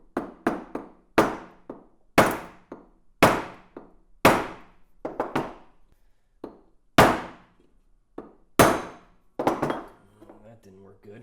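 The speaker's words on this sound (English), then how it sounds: "Give it a little tap." A hammer taps a pop rivet on a carburetor accelerator pump check valve, resting on wood, giving about a dozen sharp, close knocks in irregular single and double hits with short pauses between.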